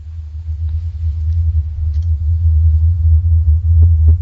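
The Taos hum, a mysterious low rumbling drone, sustained and steady with a slight swell toward the end, heard alone without any talking.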